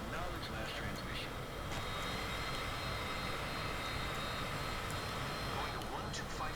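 Steady drone of a Cessna aircraft engine in flight in the MSFS 2024 video game, a continuous loud broadband rumble with a faint higher hiss, running unbroken throughout.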